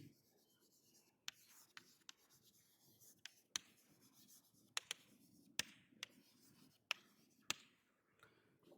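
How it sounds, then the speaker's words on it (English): Chalk or marker writes on a board in a mathematics lecture, a steady run of sharp taps and strokes over a faint room hum, fairly close and without speech. "So let me write down some properties of V."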